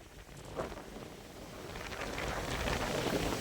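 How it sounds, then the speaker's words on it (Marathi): Strong wind blows across open farm fields in Beed district, rushing steadily against the microphone and rising in strength toward the end, with no voices. "कारण की वारं असं भरपूर सुटल्यामुळं"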